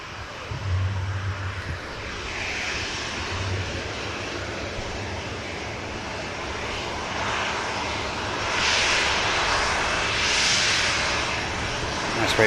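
Ryanair jet airliner taking off from an airport runway intersection, a sustained loud engine roar that swells toward the end as it climbs away, with a person talking nearby early on.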